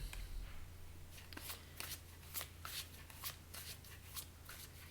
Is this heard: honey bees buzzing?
no